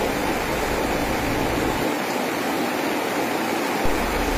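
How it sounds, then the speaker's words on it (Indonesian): An overflowing river floods a housing area in Desa Bantas, Lemadeg Barat, Tabanan, Bali, its floodwater rushing in a steady, dense roar from nearby. "Salah satu sungai yang melintasi di sebuah perumahan ini meluap dan mengakibatkan banjir"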